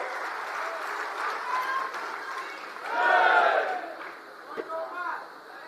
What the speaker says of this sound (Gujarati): જોરદાર તાળીઓથી ઈસુદાનભાઈને આપણે વધાવીએ